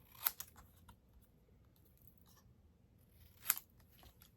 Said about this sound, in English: I am just going to cut this on an angle